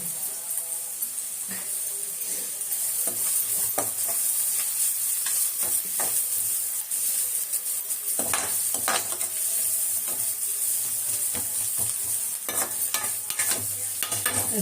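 Carrots and beans stir-fry in a pan beside cooked rice, a continuous loud sizzle with bright hiss and scattered scraping stirs from a spatula, close up and without speech.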